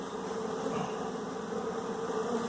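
A swarm of honeybees hums around their queen, a steady close buzzing drone that stays even and continuous throughout, with no talking.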